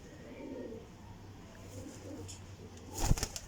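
A golden female flying pigeon coos softly nearby, low murmuring calls followed by a sudden louder burst of wing flapping near the end.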